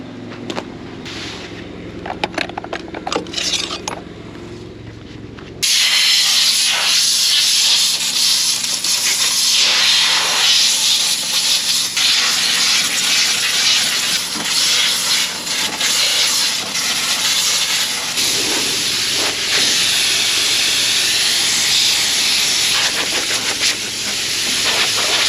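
Compressed air blasting out the radiator of a cotton picker during an Alabama cotton harvest, a loud, continuous hiss that starts abruptly after a few seconds of quieter rattling and holds steady for the rest of the clip.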